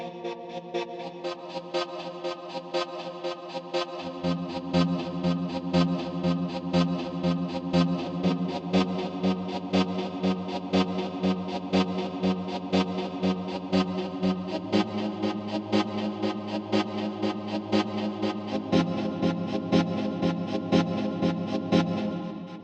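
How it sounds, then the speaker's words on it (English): Processed choir voices from the 8Dio Hybrid Cinema Voices Designs sample library, sustained and layered with a wobbling, shifting pitch and a steady pulsing flutter, loud and continuous throughout with no talking. "That is it. That is Hybrid Cinema Voices Designs."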